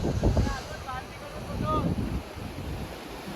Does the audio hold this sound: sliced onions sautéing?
no